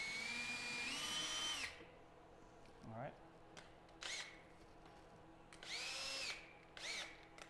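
A power drill whirs in several short bursts, winding up and spinning down between pauses, with some handling clatter in between.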